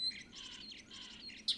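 European starling calling, an introduced species with glossy plumage, giving a run of close, bright chirps and warbling notes over steady low background noise, ending with a sharp whistle.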